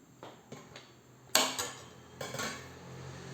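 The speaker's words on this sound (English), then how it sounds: "So let's try to cut this bun into two pieces for filling" A knife slices a large burger bun in two, giving a few close, crisp clinks and scrapes against the plate with quiet pauses between strokes.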